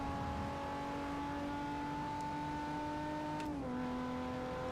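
A steady droning race car engine in the racing game Forza Motorsport 4 holds a constant pitch, then drops briefly as if shifting, loud and continuous with no talking.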